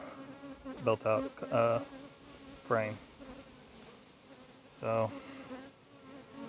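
Honey bees buzz around a beekeeper's head near the hive frames, a steady close drone with a few louder passes as bees fly right by, and someone speaks briefly under it.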